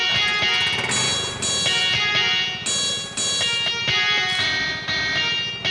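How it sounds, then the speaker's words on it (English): A doorbell chime rings out in a repeating sequence of bright, sustained tones, several notes overlapping as each strike decays, fairly loud and close. "That's the doorbell chime"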